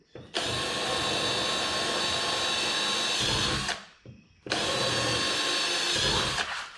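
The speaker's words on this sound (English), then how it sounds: "grab a drill with a 1/4-inch bit on it. And these little holes right there, you're going to drill out 5 of them" A power drill with a 1/4-inch bit whirs loudly up close in two long bursts, separated by a short pause, boring holes in a vehicle's lower door area with a steady high whine.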